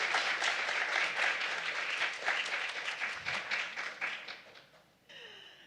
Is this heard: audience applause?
yes